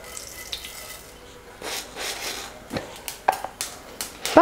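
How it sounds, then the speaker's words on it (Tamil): Mustard seeds spluttering in hot oil, a scattering of sharp pops and crackles that grow more frequent and louder toward the end over a soft steady sizzle, with no voices. "இப்போ கடுகு பொரிஞ்சிட்ருக்கு."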